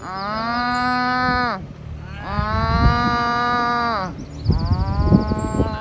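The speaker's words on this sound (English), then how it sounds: "there was literally a pack of Irish cows" Irish cows moo up close in three long, loud, deep calls, each lasting over a second with brief pauses between, and some rustling and thumping under the last one.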